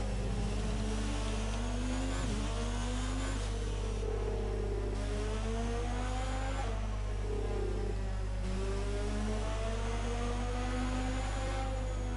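A Ferrari Formula 1 race car engine in the F1 2019 video game, French Grand Prix, drones steadily with a low hum, its pitch rising and falling as it revs and shifts through gears.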